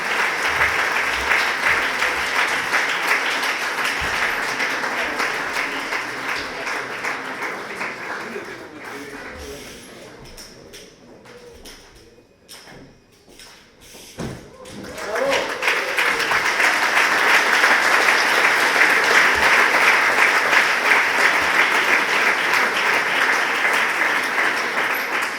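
Audience applauding at a cycling club gala, sustained crowd clapping that fades down to near quiet midway, then swells back up loudly and holds strong to the end.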